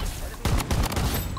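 Rapid gunfire bursts and scattered single shots crackle loudly through a BloodStrike match, overlapping in a dense, continuous volley.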